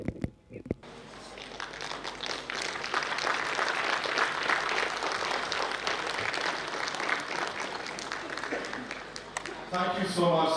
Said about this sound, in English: Can we have a big round of applause once again for all the different artists?